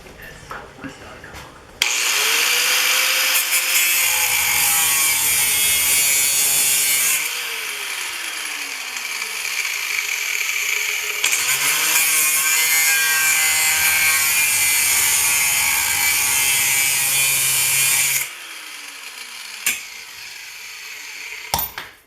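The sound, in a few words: sawing off the wooden handle while making a pickaroon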